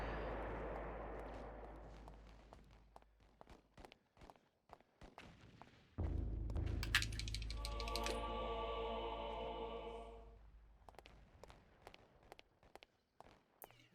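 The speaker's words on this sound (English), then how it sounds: "You ready to hear the explosions again?" Explosions in the video game Eternal Darkness, a sudden deep boom followed by a rumbling, tonal blast that lingers several seconds before fading, with softer thumps and clicks scattered around it.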